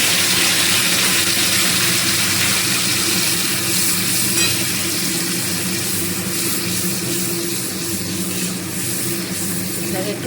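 A tomato, ginger and garlic paste frying in hot oil in a wok for a soya chaap dish, giving a loud, steady, dense sizzle with stirring close up that runs unbroken throughout.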